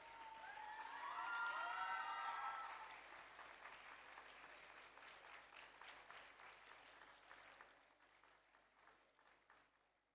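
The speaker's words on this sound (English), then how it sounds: "Please welcome them with a huge round of applause" An award-ceremony audience applauds with a steady wash of clapping and a few early cheers, heard quietly and from a distance, tapering off toward the end.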